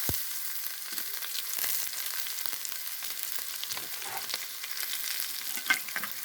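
Bay leaf, whole cumin and onion frying in hot oil for a fish curry, a continuous close crackling sizzle with stirring scrapes and a few louder pops, no talking.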